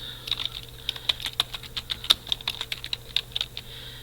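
Light, quick keystrokes on a computer keyboard click in an uneven run of taps, close and fairly quiet, with no talking.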